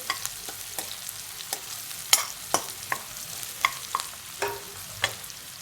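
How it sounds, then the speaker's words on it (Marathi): Onion sautés in a pan for a whole masoor curry, a soft steady sizzle broken by regular scraping clicks from a stirring spoon, close and without talk. "कांदा चांगला परतलाय"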